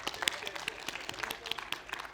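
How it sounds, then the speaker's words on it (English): Audience applause at a tech conference talk, a short burst of moderately dense clapping heard at a distance. "Big applause,"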